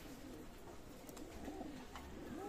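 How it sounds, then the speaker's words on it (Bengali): Good-bloodline pigeons cooing softly, a few low warbling coos rising and falling against a quiet indoor background. "চমৎকার ব্লাড লাইনের কবুতর"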